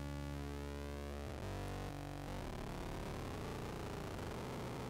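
Endorphin.es Godspeed+ synthesizer on its harmonically rich output, a buzzy tone that bends and shifts pitch, turning crackly and noisy as modulation rises, faint and continuous with no voices.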